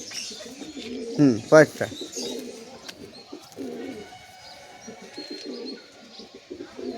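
Homing pigeons kept as long-distance fliers coo at a home loft. Soft, throaty calls come close by, with a louder pair of coos early on, while someone talks over them.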